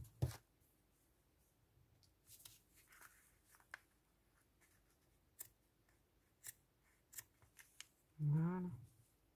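Scissors snip through lace at a craft table, a few sharp, separate clicks spaced over several seconds, ending with one longer, louder cut; close and quiet between snips.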